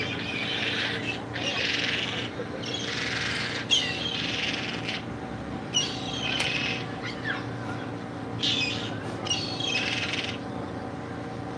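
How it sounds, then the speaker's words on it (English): Birds chirp and call in repeated bursts while being fed sweets outdoors after a workout, the high twittering coming and going over a steady background hum, close and fairly loud, with no talking. "I gave the sweets to the birds."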